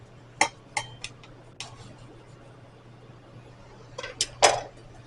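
A knife cuts through a tortilla wrap filled with Fries Supreme, giving a few sharp clicks and taps against a cutting board in two short clusters, with quiet pauses between.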